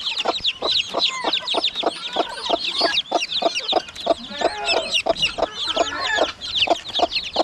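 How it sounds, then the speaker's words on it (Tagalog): Twelve newly hatched chicks peep in a constant high chorus at a rural farm hut, while a hen gives steady, rhythmic low clucks close by. "Ito po yung mga bago natin sisyo, oh."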